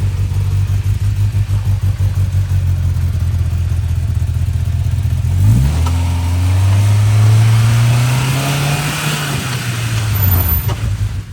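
A Polaris RZR Pro R 4 side-by-side engine runs loud and close while driving, a steady low drone that dips abruptly, then revs up in a rising sweep and settles back down.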